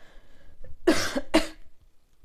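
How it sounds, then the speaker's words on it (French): Two sharp, close coughs in quick succession, separated by a short pause, with near silence around them. "Excusez-moi, je tousse encore"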